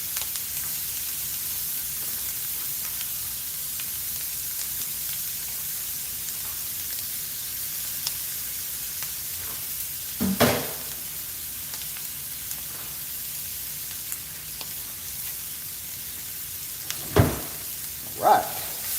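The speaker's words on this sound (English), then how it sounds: "Saute them just a little bit. Just a touch. Plus it gets all that sausage out" Sausage and other ingredients sizzle steadily in a hot pan while being sautéed for an omelette, a constant hissing fry punctuated by a few louder scrapes and stirs.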